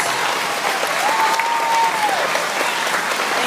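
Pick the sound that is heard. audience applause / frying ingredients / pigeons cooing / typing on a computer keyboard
audience applause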